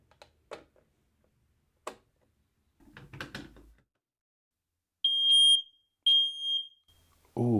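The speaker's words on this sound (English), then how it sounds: "changing the battery in one smoke alarm and fitting a new smoke alarm" A smoke alarm fitted with a fresh battery gives two loud, piercing high-pitched beeps after a few quiet clicks and handling noises, ending with a brief thud.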